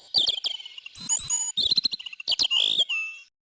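A small bird, likely a tit, chirps and twitters in quick, bright bursts and trills, close and clear against an otherwise quiet background.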